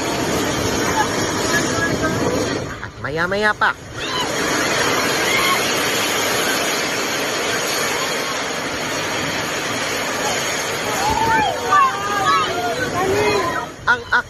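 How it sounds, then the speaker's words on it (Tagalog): Strong typhoon wind from Typhoon Odette roars steadily across Siargao Island, a loud broadband rush that barely lets up, with brief gusty dips and a few people's voices speaking over it. "Rinig na rinig ang malakas na hangin"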